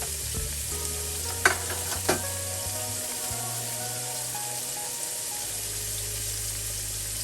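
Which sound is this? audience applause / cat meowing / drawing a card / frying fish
frying fish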